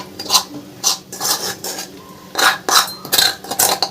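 Dal scooped out of a pan onto a metal plate, a series of separate scraping and clinking strokes of a spoon against metal, close and fairly quiet, with short gaps between them.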